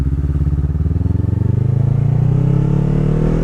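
A motorcycle engine idles and then picks up. Close and loud, a steady chugging rumble rises slightly in pitch and stays on alone without any talk.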